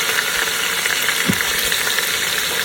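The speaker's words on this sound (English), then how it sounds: "put another piece of those flat ribs in there as well, so that that can continue to get some browning" Short ribs browning in a hot pan for Chinese five-spice short ribs, a steady loud sizzle of frying meat with a few soft knocks, no voices.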